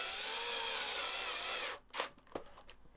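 A power drill drives the bolts on a Stratocaster guitar during a setup, whining loud and steady for under two seconds before cutting off. A few small clicks and knocks follow.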